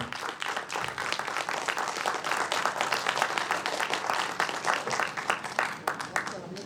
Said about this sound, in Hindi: इसे तालियां इतनी जोर से बजाइए कि लगे कि ये सभागार जो है भरा हुआ है